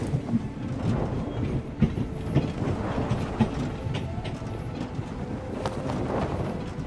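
A train in the game Voidtrain rolls past with a steady low rumble and scattered rhythmic clicks and clacks of wheels, continuous and fairly close throughout.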